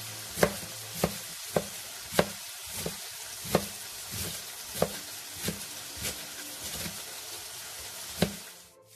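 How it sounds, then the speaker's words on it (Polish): Shredded cabbage and other ingredients for bigos fry in a pan, a steady sizzle punctuated by regular scraping strokes of a stirring utensil. "Jak nam się ładnie wszystko usmaży na patelni, wtedy będziemy"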